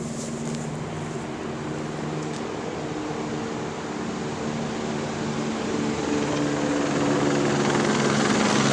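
A helicopter flies overhead above a town square, its steady rotor drone and engine hum holding throughout and growing slightly louder toward the end, with no voices.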